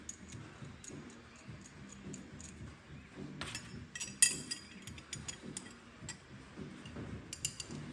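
A ratchet tightens install nuts onto new BMW wheel studs, producing soft, close clicking in quick irregular runs with a few sharper metallic ticks.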